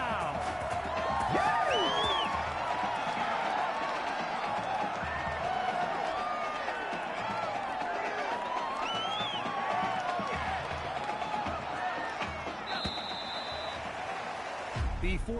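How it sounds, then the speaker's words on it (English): A stadium crowd in the Madden 21 football video game roars and cheers steadily, a dense sustained crowd noise with whoops, loud and continuous throughout. "A big-time play that gets a roar from this crowd."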